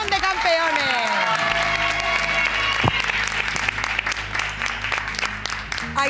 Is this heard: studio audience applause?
yes